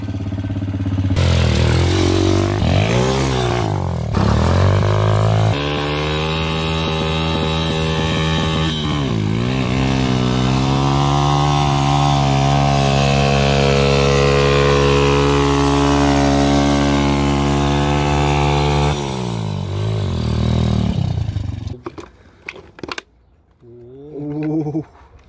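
A motorcycle engine running with dimexide added to its oil starts up and clatters at a loud, uneven idle with occasional revs for about twenty seconds, then cuts out, leaving brief handling noises nearby.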